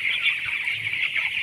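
Dense chorus of many broiler chickens inside a poultry house, a steady continuous clucking murmur with a bright high-pitched din throughout and no talking.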